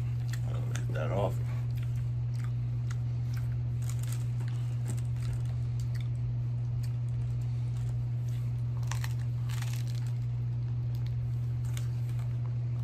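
Close, moist chewing and biting on a beef, mushroom, olive and parsley deep dish pizza, with soft squishy crunches scattered over a steady low hum.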